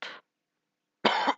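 A man coughs twice while recording a Minecraft minigame coding session: a short cough, a pause of nearly a second, then a louder, fuller cough. Both are close to the microphone with silence around them.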